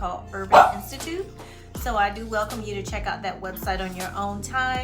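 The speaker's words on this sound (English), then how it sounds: "you may hear my dog in the background" A dog barks in a home office, loud repeated barks and yips breaking in close by while a person keeps talking over them.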